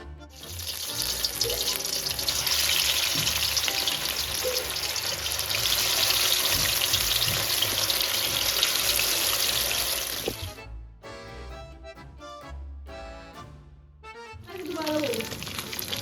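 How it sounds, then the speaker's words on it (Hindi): Marinated fish frying in hot oil in a kadhai (wok), giving a loud, steady, close sizzling hiss that breaks off briefly with some clattering before the sizzle resumes. "तो कढ़ाई में जो हमारा ऑयल गर्म हो गया, तो अब जो मैं मछली को तलना शुरू करती हूँ"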